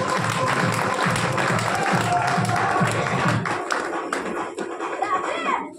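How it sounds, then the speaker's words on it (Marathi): An audience applauds steadily for a few seconds, dense clapping that thins into scattered claps near the end, with voices murmuring underneath. "टाळ्या कंटिन्यू वाजल्या पाहिजेत."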